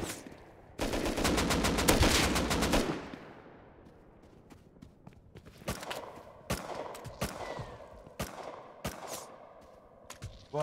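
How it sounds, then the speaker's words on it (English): Gunfire in the survival game Rust: a long, loud burst of rapid automatic fire, then a scatter of sharp single and double shots at irregular intervals over a quieter background, with no voices. "Whoa, who's shooting at us?"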